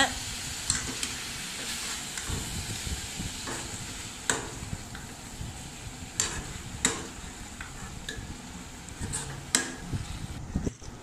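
Goat liver and tomatoes fry in a pan with a constant sizzle, while a spoon stirs and scrapes against the metal in repeated sharp clanks, heard up close.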